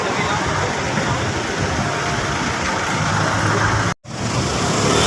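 Heavy rain pours down in a dense, steady hiss, loud and constant, broken by a brief dropout near the end.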